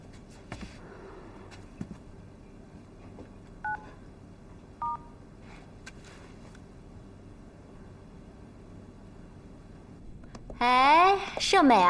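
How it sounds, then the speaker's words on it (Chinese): Telephone keypad tones in an office on a quiet weekend: two short dialing beeps sound near the middle over faint room hiss, then a louder warbling electronic burst closes the clip. "盛美啊，你怎么想起给我打电话了？"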